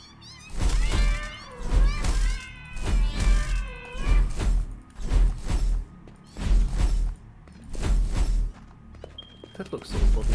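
A cat meows repeatedly in a rhythmic series of loud, drawn-out cries, roughly one every second, each with a thump of movement, while a person talks in between.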